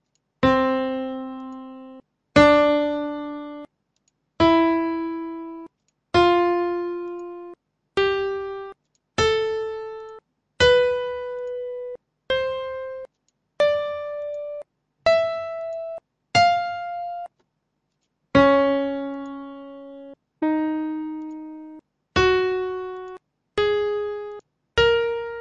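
Synthesized piano-like tones from a Visual C++ keyboard program play one after another, about fifteen separate notes stepping up in pitch and then dropping back, each a steady electronic tone with a short decay and clear gaps between, alone.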